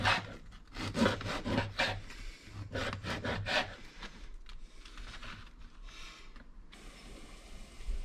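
Knife slicing food into strips on a board while preparing Spanish garlic soup, giving a run of rapid scraping, sawing strokes that fade into quieter rubbing, close and with no talking.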